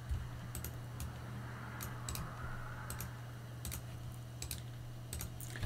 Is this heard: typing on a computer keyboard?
yes